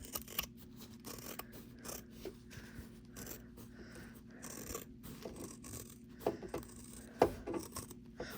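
Scissors trimming bag fabric in a sewing project, soft close snipping and rubbing sounds over a faint steady hum, with a few sharper cuts toward the end.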